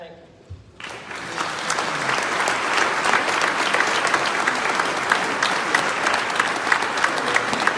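At the Cradle of Aviation gala in October 2021, a brief quiet moment gives way to a sudden burst of loud, sustained crowd clapping that fills the room evenly for several seconds.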